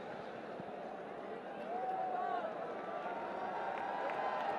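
A stadium crowd at a Bangladesh Premier League cricket match roars and cheers as the players walk out, the rumble swelling partway through, with a commentator talking over it.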